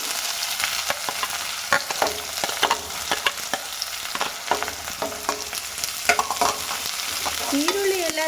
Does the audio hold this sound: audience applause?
no